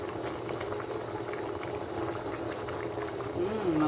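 Sweet and sour sauce of ketchup and sugar boiling in a pan, a steady close bubbling and hissing that swells slightly louder near the end, with no talk over it.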